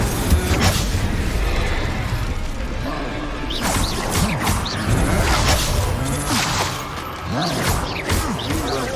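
The Incendio fire spell cast in Hogwarts Legacy during a duel bursts out amid dense, loud combat effects, with booming hits, crashes and mechanical clatter running continuously throughout.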